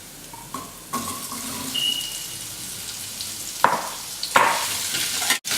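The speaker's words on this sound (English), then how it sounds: "Stir through the pumpkin so the ghee and the spices are coating it completely." Pumpkin stirred through ghee and spices in a pot: a soft ongoing sizzle with a few sharper spoon scrapes near the end, close and moderately loud, no voices.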